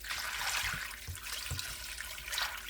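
Water pours and splashes steadily into a crockpot, a continuous rushing gush with a few small knocks, close by.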